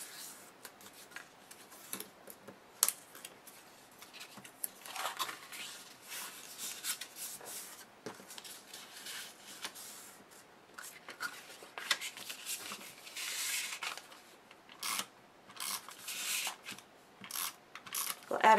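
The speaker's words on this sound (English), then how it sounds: "We're going to fold in all of our score lines." Card stock is folded along score lines for a box, making soft, intermittent rubbing and creasing scrapes up close at low volume, with no talking.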